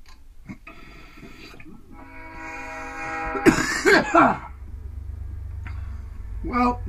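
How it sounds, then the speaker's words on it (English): A person coughs a few times in a short burst, close by, over a low rumble like a passing train. "I'm coughing."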